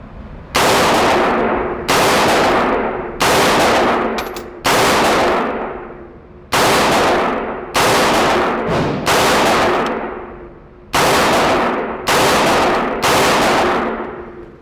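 Ten loud, sharp gunshots from a Palmetto State Armory AR-15 fitted with a muzzle brake, fired at a steady unhurried pace with brief decaying echoes between each shot, no talking.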